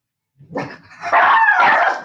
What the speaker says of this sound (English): Oh, stupid dogs.